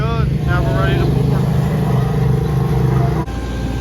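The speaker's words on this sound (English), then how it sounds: "Now he's just compacting it all." A compactor works over asphalt millings on a driveway being prepared for paving, its steady engine drone running loud and close throughout with a brief drop near the end.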